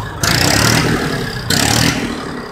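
A 2010 Massey Ferguson 1035 DI tractor with a diesel engine runs close by, loud and steady, and is blipped twice into short revving surges before settling back to a rough idle.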